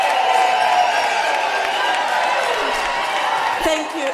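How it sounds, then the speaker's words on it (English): A crowd claps steadily at a Unisa autumn graduation ceremony, with a voice speaking over the applause. "I'd like the parents to give you a round of applause"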